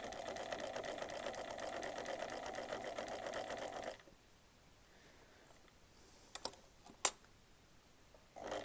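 A sewing machine runs in a steady, fast stitching burst while sewing a shirt collar, then stops, leaving near-silence broken by a couple of soft clicks.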